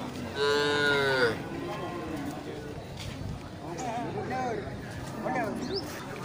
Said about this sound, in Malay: di sebelah timur dari longkang banyak terlihat sapi indukan